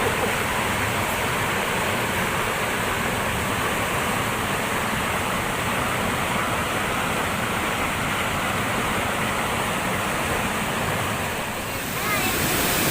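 Water rushing steadily along a channel that feeds a turbine for generating electricity in Maron, Probolinggo, a loud continuous roar with no break for the whole stretch.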